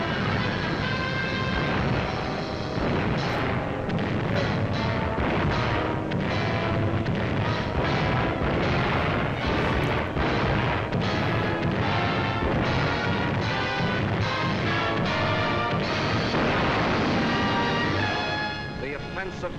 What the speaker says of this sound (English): Yes, the night bombings.